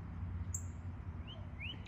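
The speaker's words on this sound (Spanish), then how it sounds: "¿Escuchan ese pitido? Ese pitido es típico cuando no está cantando." A male bird gives two or three short, faint rising peeps, slightly spaced apart, over a soft low background rumble outdoors.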